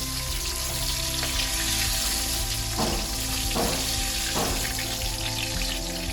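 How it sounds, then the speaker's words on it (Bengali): Steady sizzling of pointed gourd frying in hot oil for a prawn curry, a continuous crackle with occasional louder bursts and stirring sounds, close by and without talk. "পটলটাকে আগে আমি ভেজে নেব।"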